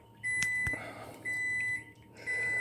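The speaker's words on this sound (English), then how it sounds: "I'm going to throw this in the microwave for about a minute or 2" A microwave oven heating a beeswax mixture gives three steady, evenly spaced electronic beeps, each about half a second long, clear and fairly close in a quiet room.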